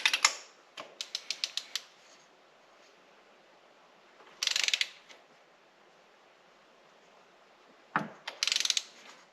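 A ratchet tightens bolts on a BMW E83 X3 M54 engine intake, giving quick clicking runs in three separate bursts with quiet gaps, close and fairly soft.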